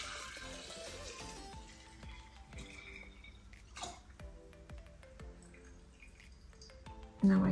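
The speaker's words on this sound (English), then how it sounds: "I'm just going to pour the alcohol in on top." Alcohol is poured over vanilla beans in a jar, giving a quiet, steady trickle with scattered drips and small clinks, and a louder knock at the very end.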